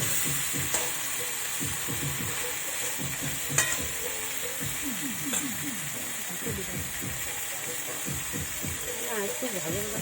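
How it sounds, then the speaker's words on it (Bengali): Chicken pieces fry in a pan for chicken kosha, a continuous hissing sizzle with occasional utensil taps, while a person talks over the cooking throughout. "একটু ভাজা ভাজা করে নিই একটু ভাজা ভাজা করে নেব"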